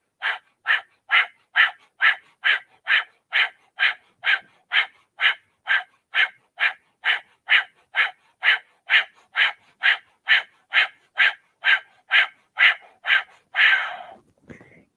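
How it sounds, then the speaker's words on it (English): Rapid kundalini breath of fire: a long run of sharp, evenly spaced forceful exhalations, about two per second, close to the microphone and unaccompanied, ending in one longer, rougher breath. "now 30 pulsations, breath of fire"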